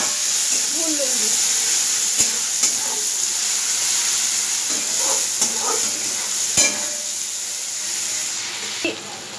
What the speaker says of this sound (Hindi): इसी ऑयल पे मैंने प्याज को डाल दिया है, अभी अच्छे से प्याज को भून लूंगी।